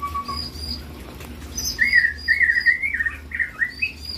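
A long-tailed cage bird, the male parent in a breeding enclosure, chirping at close range in a quick run of bright, warbling notes with a few soft high calls before it.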